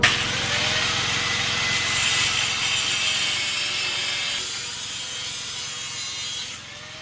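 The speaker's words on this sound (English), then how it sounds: "Did a nice little hole saw job there." Hole saw cutting through metal for a turbo wastegate on a twin-turbo small-block Chevy 350 rat rod, a steady continuous grinding rasp with no pauses, close and loud, ending abruptly near the end.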